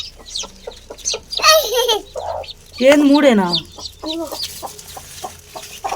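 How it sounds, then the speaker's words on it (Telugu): Hens cluck and chicks cheep in short, repeated bursts close by, with a couple of louder squawking calls standing out; a person speaks briefly amid the birds. "అది కోడి పిల్లలు"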